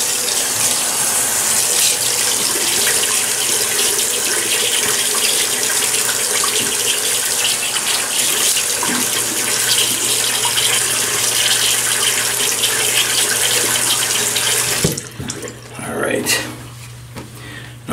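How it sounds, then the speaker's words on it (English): A bathroom tap runs steadily into a sink as a man wets his face before shaving, a loud continuous gush of water that stops near the end, leaving faint splashing. "I've had about 5 days growth, so let me wet the face."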